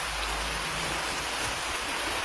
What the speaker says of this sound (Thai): ไหนๆฝนก็ตกแล้วเนาะ